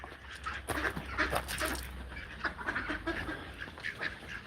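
Ducks quack repeatedly while feeding alongside peacocks, a busy, moderately faint mix of overlapping calls with some clucking fowl in the background.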